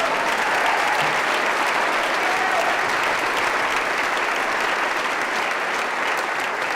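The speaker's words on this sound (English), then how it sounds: "I think we should applaud that." Steady, sustained audience applause fills a medical school Ceremony of Commitment hall for the MD class of 2022, dense clapping from a large crowd lasting throughout at even loudness.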